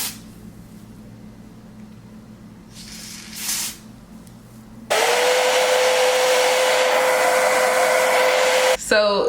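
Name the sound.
hair dryer blow drying a curly wig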